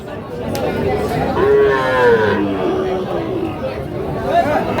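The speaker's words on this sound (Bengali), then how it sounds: "আমরা এই পাশে দেখছিলাম একটা বেশ সুন্দর সাইজের শাহিওয়াল সার বাছুর।" A Sahiwal bull calf lows with a drawn-out moo at a busy rural cattle market, rising clearly over a steady background of crowd chatter and nearby voices.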